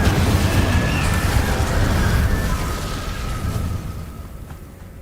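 Fiery spell blast from Incendio cast in Hogwarts Legacy, a loud sustained roaring burst with a dense low rumble that slowly fades over several seconds, no voice over it.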